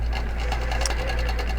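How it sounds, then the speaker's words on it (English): A QBOT quilting robot drives a sewing machine in a steady, continuous mechanical whir with a low motor hum, running close and loud throughout with no talk. "we're going to push the go button on QBOT and begin"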